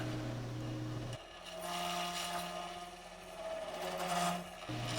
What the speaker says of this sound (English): it sands perfect with regular sandpaper